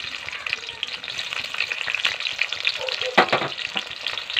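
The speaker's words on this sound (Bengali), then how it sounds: "পেঁয়াজটা একটু ভেজে নেবো" Onions frying in hot oil for a dried-fish paste dish, a steady dense sizzle close by with scraping stirs and a louder clatter of the spatula near the end, no voices.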